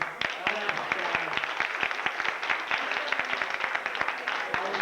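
An audience claps at the 2004 opening program of a Baha'i school in Whitehorse, a fairly dense patter of hand claps held at moderate volume for several seconds, with no one speaking over it.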